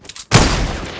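Gunfire in the video game Fortnite rings out as a sudden loud burst that cuts in after a quieter moment and rolls on as a dense, sustained volley.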